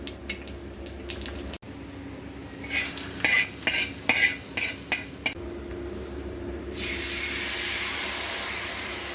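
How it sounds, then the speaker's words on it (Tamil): Mustard seeds tempering in oil on a dosa pan, with a steady sizzle under clinks and scrapes of a utensil against the pan, then a broad, louder frying hiss in the last seconds; no talking. "நான் இந்த தோசைக்கல்லையே கொஞ்சம் எண்ணெய் ஊற்றிருக்கேங்க கடுகு தாளித்து அதில் ஊற்றிக்கலாம்"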